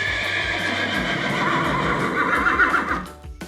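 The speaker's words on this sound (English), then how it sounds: "Neigh. Can you neigh like a horse?" A horse gives a loud, drawn-out neigh, a whinny lasting a few seconds, with hoof clip-clop sounding underneath and fading at the end.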